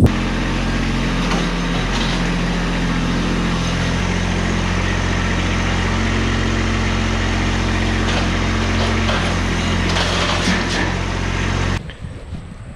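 A Kubota B2601 compact tractor engine runs at a steady idle, a loud, constant low rumble close by that continues for several seconds before cutting off abruptly near the end.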